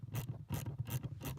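Inside a car trunk, a ratchet loosens an 8mm nut, giving close, quiet clicking bursts in quick repeated strokes over a low hum.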